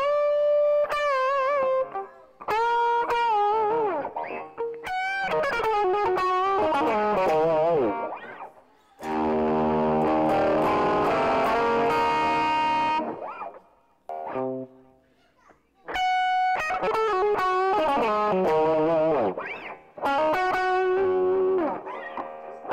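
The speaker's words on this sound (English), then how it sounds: "But when playing distortion or overdrive, I like to be on the bridge position." Distorted electric guitar played through the bridge position of newly installed pickups, loud chords and riffs in several phrases separated by short pauses, with a sustained ringing chord in the middle.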